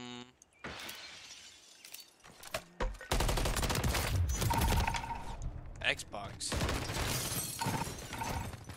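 Rapid gunfire and shattering impacts from Call of Duty: Modern Warfare 3 ranked play, loud dense bursts after a quieter opening, with a player talking over the action.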